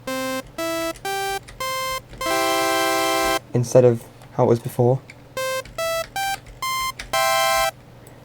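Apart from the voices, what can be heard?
8-bit chiptune synth melody with added saw oscillator, FL Studio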